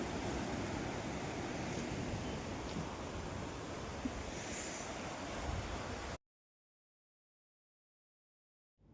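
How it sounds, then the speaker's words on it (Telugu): Sea waves at Kakinada beach on a rainy day make a steady broadband roar of surf mixed with wind, fairly constant for several seconds before abruptly ending in silence. "ఆ సముద్రంలోంచి వచ్చే అలల సౌండ్ మైండ్కి ఎంత రిలీఫ్నిస్తుందో"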